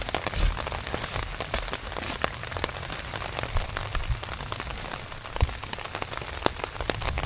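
Steady rain pattering on a shelter overhead, a dense continuous hiss of drops with occasional louder close splats, no voices.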